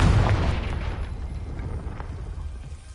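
A Confringo fire spell explodes in the Hogwarts Legacy video game, a heavy booming burst up front followed by a rumbling, crackling decay with a few smaller pops trailing off.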